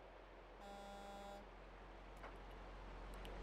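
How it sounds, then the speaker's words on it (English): A truck horn blares in American Truck Simulator, one sustained tonal honk of about a second over a steady engine drone, followed by a few faint clicks. "I wonder if they're honking at me."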